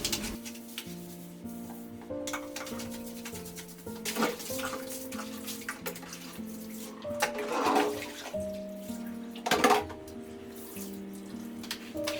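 Water runs steadily for a long stretch while plants are watered, splashing and trickling with occasional louder gushes, fairly close and without talk.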